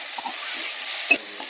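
Spices with turmeric, salt, chili and ground paste stirred and fried in a pan, a steady close sizzle with scraping stir sounds and one sharper clatter near the end, no voices.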